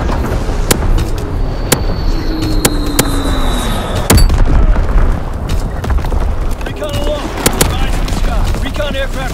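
An artillery battery in Call of Duty fires in a series of loud, sharp booms at irregular intervals over a constant rumbling din of battle, with radio-style voices talking in the background.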